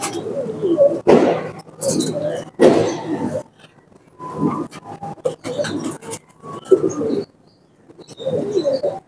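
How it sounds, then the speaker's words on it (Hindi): A male teddy pigeon with onion-colored eyes coos close by in several throaty, rolling phrases spaced by brief silences, with faint rustling and a little background noise between calls. "ये माशाल्लाह रिजल्ट दिखाने वाले कबूतर हैं दोस्तों"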